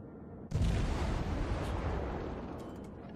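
A Gnevny-class destroyer's guns fire a volley in World of Warships, one abrupt booming blast followed by a long rumbling roar that slowly fades.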